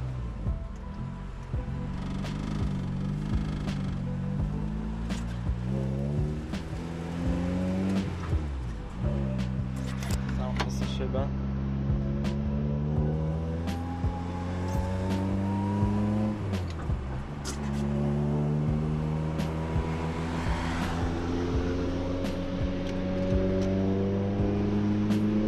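A rally car with failed service brakes, only the handbrake working, drives steadily with its engine droning and rising and falling through gears, loud and close throughout, with brief sharper bursts and no voices.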